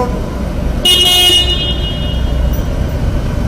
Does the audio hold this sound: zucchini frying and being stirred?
no